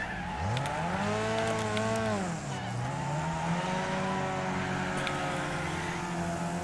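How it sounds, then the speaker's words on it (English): A racing car in the Wreckfest demolition-derby racing game, untuned and driven fast, holds a loud, continuous engine drone whose pitch climbs and dips with gear changes, with faint tire scrubbing underneath. "Here's a little clip of me driving fairly quickly with no HUD at all"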